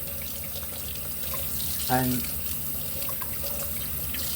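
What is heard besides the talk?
tap water running through pork intestine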